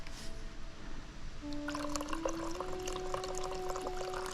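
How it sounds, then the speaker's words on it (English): Liquid pours into a container beside a campfire, a steady stream whose pitch rises as the vessel fills, close up and with no one talking. "I'll just pour in some that seemed like enough."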